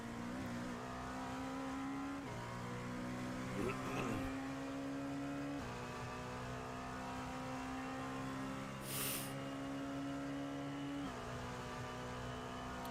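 Race cars lapping at Daytona, including a green Ford number 27 in lap traffic, engine drones climbing through repeated upshifts under steady commentary, with a few faint pass-bys and a brief noise burst.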